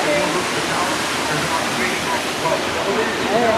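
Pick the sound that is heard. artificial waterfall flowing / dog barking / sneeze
artificial waterfall flowing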